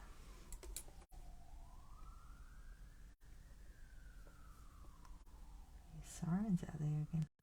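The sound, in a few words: sirens outside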